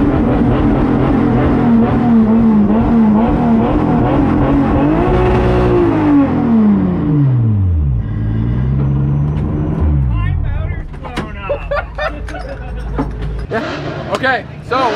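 Revving engine of a Kansei Wheels Nissan 240SX drift car at a drift competition, loud and close, its pitch sweeping up and down as the car is worked hard, then breaking into choppy bursts near the end over background commentary.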